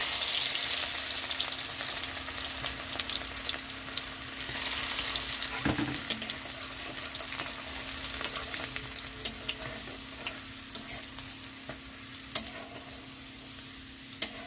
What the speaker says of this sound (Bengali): রসুনটা একটু ভাজা হয়ে গেছে